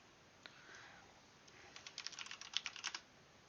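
Quiet typing on a computer keyboard, a few scattered keystrokes at first, then a quick burst of rapid clicking taps, faint and close with no talking.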